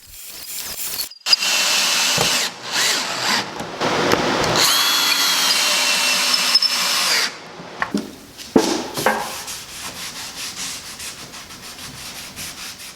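A power drill drives screws through pocket holes into 3/4 inch Baltic birch plywood for a hope chest bottom, with several loud whirring bursts of varying length, close up, separated by brief pauses and rubbing handling noises.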